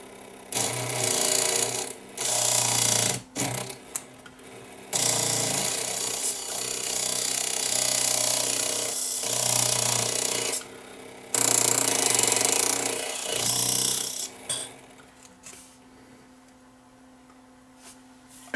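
Loud mechanical rattling and grinding from the motor pulley on a vintage Realistic 8-track player's motor shaft, in bursts separated by short pauses, close up and with no talk.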